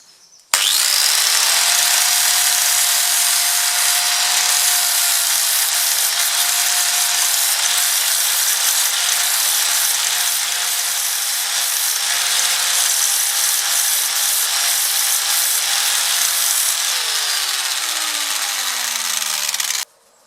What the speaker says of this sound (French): petit coup de meuleuse et après on va essayer de l'insérer comme j'ai fait tout à l'heure